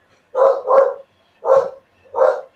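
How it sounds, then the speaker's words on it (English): A dog barks four times close by, two quick barks together, then two more single barks spaced apart, loud and clear with no talking. "That's my dog."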